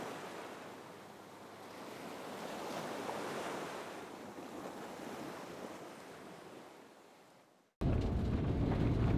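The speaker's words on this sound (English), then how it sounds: "settled in for an incredibly peaceful night listening to the waves" Ocean waves wash and roll in a broad, steady roar with wind rushing over it, then abruptly cut to louder surf close by.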